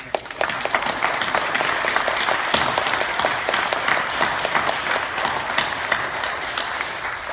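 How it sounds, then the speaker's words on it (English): A church congregation at a Baptist service claps in sustained, dense applause that holds steady and fairly loud throughout, with no voices standing out. "Let's give all of them a round of applause to the parents."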